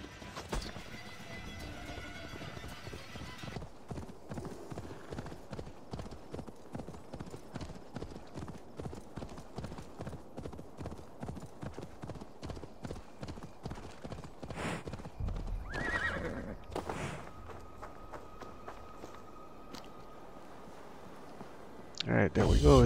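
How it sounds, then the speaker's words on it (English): A horse in Assassin's Creed Valhalla gallops with a steady, rhythmic run of hoof clip-clops, a whinny rising near the middle and a louder burst of sound at the end. "Horse."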